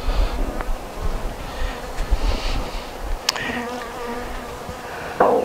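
Honey bees buzz steadily around a hive after a colony split, a dense close drone of many wings with a few louder individual passes and no voices.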